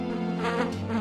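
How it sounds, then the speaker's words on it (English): A fly buzzing: a brief, close, droning buzz that wavers slightly in pitch for about a second, with faint music behind it. "Fly."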